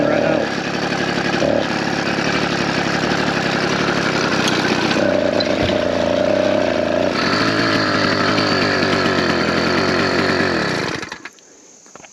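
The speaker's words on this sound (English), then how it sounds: "Yeah, this engine's gonna scare them off." A two-stroke motorized bicycle kit engine runs loud and steady for about eleven seconds, a raspy buzzing drone with shifting revs and wind noise, then cuts off abruptly into near silence.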